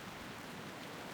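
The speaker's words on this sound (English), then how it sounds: "And it's raining, which I believe gives us good luck for fishing." Steady rain falling in World of Warcraft Classic near a fishing pier, a continuous even hiss of moderate loudness with no voices over it.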